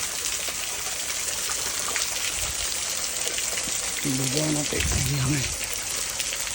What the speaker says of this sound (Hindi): ओहो, ये झरना बह रहा है, उस तरफ चलते हैं।